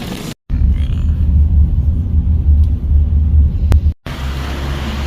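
Inside a taxi on a short night ride, a steady loud low engine and road rumble fills the cabin, with two brief dropouts and no talk.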